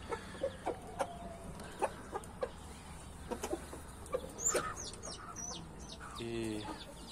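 A very large, heavy fighting-breed hen clucks in short, irregular bursts close by, with other chickens and birds calling in the background of a farmyard.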